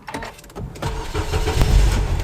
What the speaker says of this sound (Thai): แค่เหยียบเบรกนะคะ แล้วก็กดพุชสตาร์ท